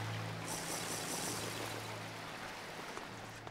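Water is collected in modded Minecraft RLCraft, a soft continuous pouring and trickling stream, fairly quiet and steady throughout.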